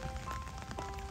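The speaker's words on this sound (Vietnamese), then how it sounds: "trời mưa này chiêu ha." Rain patters steadily on surfaces outdoors in the Mekong Delta countryside, a soft, continuous hiss of drops with faint tones in the background.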